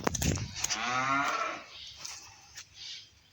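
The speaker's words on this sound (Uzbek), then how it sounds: "Qayerda ham bitta sigir bor ekan o'rtoqlar." A cow lets out one long, loud moo nearby, followed by quieter rustling and faint outdoor noise.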